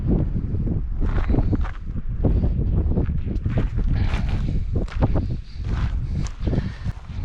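Strong wind buffets the microphone on a mountain overlook, a loud, continuous low roar with gusty surges and some rustling, and no talk.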